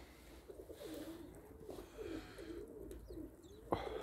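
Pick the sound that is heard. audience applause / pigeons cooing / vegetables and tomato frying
pigeons cooing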